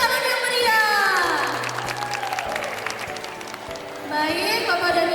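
Applause from an event audience, clapping spread through the clip under a speaking voice over a sound system, with a louder swell at the start and end.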